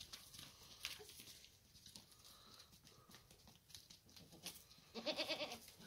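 A herd of goats, old does kept with a young buck during the mating season, mill about in a pen with soft shuffling hooves and rustling, and a short bleat rises near the end, all fairly faint.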